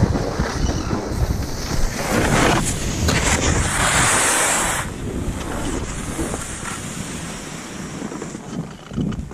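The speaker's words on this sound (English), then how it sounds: "it blew real hard, real windy today" Strong cold wind roars and buffets the microphone on a snowy mountain ski slope, a loud steady gusting rush that swells around the middle and eases slightly toward the end, with no talk.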